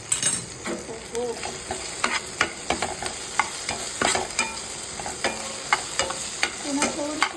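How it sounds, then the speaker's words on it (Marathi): Okra frying in a pan, stirred with repeated sharp scrapes and clatters of the utensil over a continuous close sizzle, the strokes coming at an irregular rhythm with no talking. "पुन्हा थोडीशी आपण हलवून घ्यायची आणि अशी दाबून बघायची शिजली आहे का"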